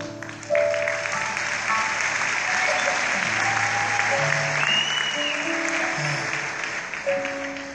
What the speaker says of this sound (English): You can definitely applaud him